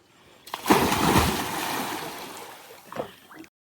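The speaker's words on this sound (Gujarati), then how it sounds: "આપણો પહેલો ધુબાક્યો" A person jumping into a resort pool at a hill station, one close, sharp splash followed by churning water that fades, with a smaller splash near the end.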